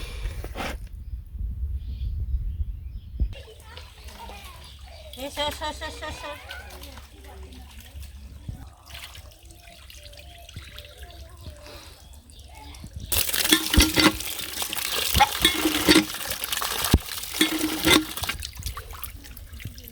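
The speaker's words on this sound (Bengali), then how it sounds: "মাংস কাটাকাটি শেষ মানে ধুয়ে নেই" Cut chicken meat being washed in water in a village kitchen: splashing, trickling water that grows louder and fuller toward the end, with voices talking at times.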